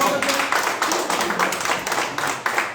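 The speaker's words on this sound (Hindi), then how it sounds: "जोरदार तालियों के साथ, तालियों के साथ" Loud applause from a crowd gathered at a BJP headquarters event welcoming Pahari leaders, steady dense clapping throughout with voices mixed in underneath.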